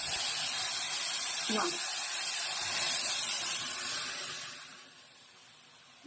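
Cooked toor or moong dal hits hot tempering in a pan and hisses with a broad, steady sizzle that fades away toward the end, with a short spoken exclamation over it.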